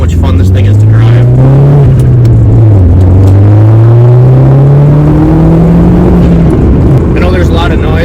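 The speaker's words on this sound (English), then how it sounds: "I want you guys to hear the blow-off valve" Audi TT Quattro with the window down, its engine droning and rising in pitch under steady acceleration while someone talks over it; the hiss of the turbo blow-off valve is not clearly picked out.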